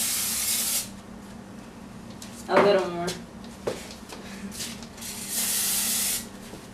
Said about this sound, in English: You can do it with spray or butter or oil.